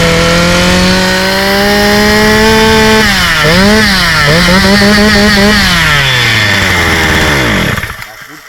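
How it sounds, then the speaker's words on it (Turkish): A chainsaw engine screams at very high revs, loud and close and held steady for about eight seconds. The pitch wavers midway, then sags as the engine winds down at the end. "şimdi bak motoru çalıştıracağım nasıl aşırı bir devir dönecek"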